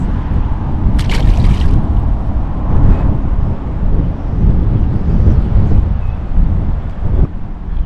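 Strong wind buffets the microphone during urban bass fishing outdoors, a loud, steady rumbling roar that fills the whole stretch with no talk.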